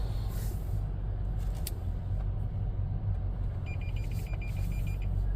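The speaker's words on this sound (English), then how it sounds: "There's our park assist going off." A Toyota Sequoia's park assist sensor sounds a short run of rapid electronic beeps over a low, steady engine hum, fairly faint in the background.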